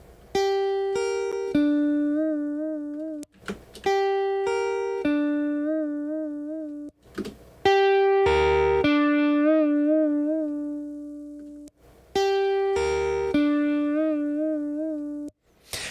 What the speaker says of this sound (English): I started doing like a sort of a blend of like a kind of fuzzy sound and the piezo.